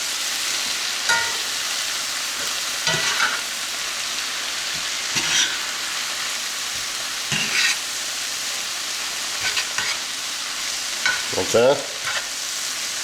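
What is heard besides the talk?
kale, bacon and garlic tossed with tongs in a sizzling pan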